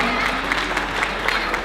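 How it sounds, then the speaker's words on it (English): An audience at a wedding applauds together, steady close clapping filling the room with crowd murmur underneath, a few sharper individual claps standing out. "Please give them a round of applause one more time."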